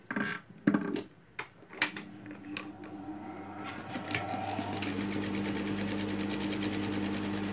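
A sewing machine stitches fabric for a tea cozy: a few short separate bursts, then a steady close whirring run that goes on to the end.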